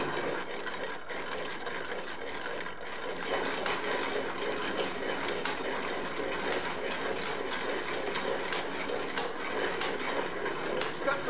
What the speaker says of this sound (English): It's a scutching machine, but it's operated by using your feet.